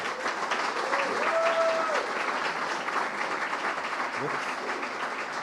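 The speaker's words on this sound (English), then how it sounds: "How about a big Raindance round of applause for Elazar Cabrera?" An audience at the 31st Raindance Film Festival awards ceremony gives a steady round of applause, dense, continuous clapping that fills the room at an even level, with a brief tone and a voice faintly underneath.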